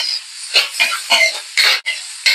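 Garlic and onion frying in a pan, bound for a dish of banana heart and sotanghon, hiss and sizzle close by in repeated rising bursts, with no talking.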